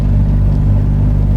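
A vintage Simca 8 climbs a steep hill and accelerates in second gear with a loud, deep, close-up engine rumble that drones steadily and strains throughout. No voices are heard.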